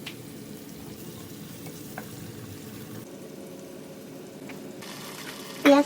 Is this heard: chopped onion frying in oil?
yes